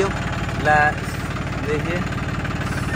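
A John Deere 5310 tractor with a power upgrade runs close by with a steady, throbbing diesel hum, briefly swelling as it is revved, while people talk over the engine.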